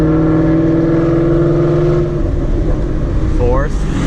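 A car with a very loud aftermarket exhaust accelerates hard through the gears, its droning engine note holding steady, then breaking off at a shift before building again, loud and close.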